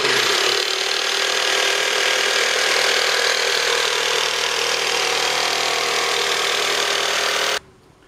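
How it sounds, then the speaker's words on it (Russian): Electric jigsaw cutting a 75 mm wooden strip marked out as a template blank for oak barrel making, a loud, steady buzzing drone that runs without a break and then stops sharply near the end. "отпиливаем лобзиком нашу полоску"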